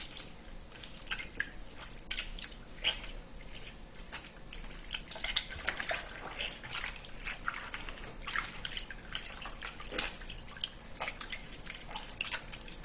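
Gluten dough being washed by hand in a basin of water, with soft wet squishing, dripping and sloshing repeated steadily and close, no talk.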